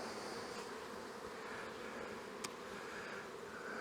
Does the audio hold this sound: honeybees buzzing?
yes